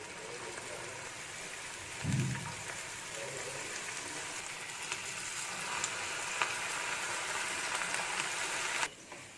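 Oats pakoda frying in a pan of hot oil, giving a steady, even sizzle with a crackling hiss throughout and a brief low thump near the start.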